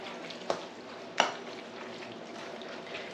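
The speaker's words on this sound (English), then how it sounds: "I've got 1 packet, so I'm going to go ahead and mix it together" Taco seasoning being stirred into chicken enchilada filling in a bowl, giving a soft continuous scraping and mixing texture with two brief clinks of the utensil against the side.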